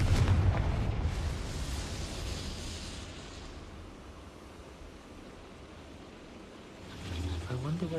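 Spell blasts from the Bombarda and Confringo explosion charms in the Hogwarts Legacy video game: a loud booming burst at the start that decays into a rumbling wash, then a second swell of roar near the end.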